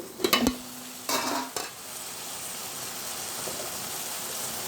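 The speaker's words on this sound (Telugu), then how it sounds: "ఒకసారి కలుపుకోవాలి అంతా కలిసేలాగా" A spoon scrapes and clinks in a pan of brinjal and tomato gravy curry with small fish, giving a few sharp metallic knocks before settling into a soft, steady sizzle. The sound is close, with no talking.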